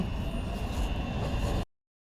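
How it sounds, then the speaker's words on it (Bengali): A steady low rumble of a train departing a London station, rolling along the tracks, continuous and fairly distant, cutting off abruptly after under two seconds. "ওই যে ট্রেনটা ছেড়ে দিল"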